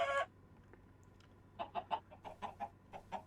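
Chickens cluck in short, quick bursts in the video game Minecraft Bedrock Edition, one brief call at the start, then a rapid series of clucks after a pause, fairly clear and close.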